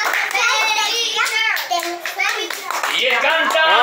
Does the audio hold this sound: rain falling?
no